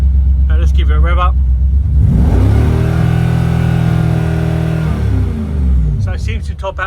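A Mercedes-AMG M113 V8 in a W202 rises from idle into a sustained loud rev, holds high, then drops back, with someone talking briefly before and after.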